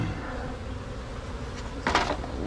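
Honeybees at a very strong hive give a faint, steady close buzz, with a brief louder burst of buzzing near the end as bees move past.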